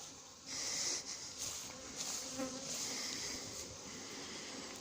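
Honeybees from a swarm being hived buzz steadily in a dense, droning mass, holding a constant hum with slight swells in loudness.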